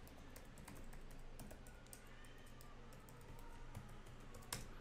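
A user ID and password are typed on a computer keyboard, with quick, irregular key clicks tapping steadily through a quiet room and a sharper click near the end, no talking.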